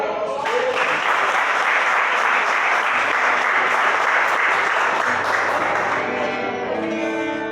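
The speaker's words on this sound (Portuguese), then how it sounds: "Mais uma vez as palmas para o nosso Deus" A church congregation claps loudly and continuously, a dense wash of hands that holds steady before thinning out at the end.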